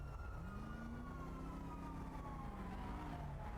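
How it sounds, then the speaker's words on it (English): Emergency sirens wail in a role-play video game city, a rising and falling siren tone sweeping up and down under a steady vehicle drone, quiet overall with no talking. "I can hear the sirens."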